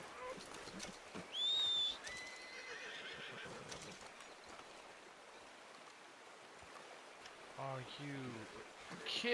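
A horse in Red Dead Redemption 2 gives a clear whinny early on, followed by soft clip-clop hooves and a quiet outdoor background with flowing water and a faint bird.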